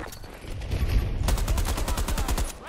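Automatic weapons fire in the shooter game Battlefield 2042, with dense overlapping shots building into a rapid machine-gun burst, loud and close, and no voices.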